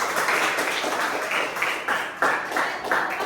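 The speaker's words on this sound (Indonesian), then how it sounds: "Terima kasih tepuk tangan untuk Kian." A classroom of students claps for a classmate, a steady patter of hand claps with a few louder bursts, fairly close and without talk over it.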